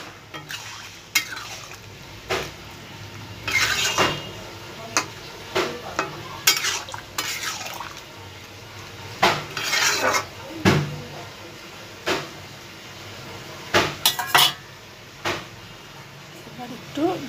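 Potato and pointed gourd curry stirred in a pan, with close, irregular scraping and knocking strokes recurring every second or two over a low cooking hiss.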